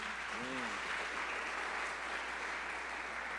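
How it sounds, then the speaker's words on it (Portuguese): A continuous wash of applause from a church congregation during a morning celebration service, even and sustained throughout, with a brief voice near the start. "Aplauda o Senhor Jesus."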